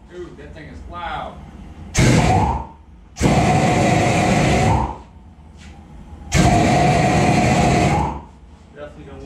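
A loud roaring custom Excalibur propane torch flares up in three long bursts, with quieter pauses and faint voices between them.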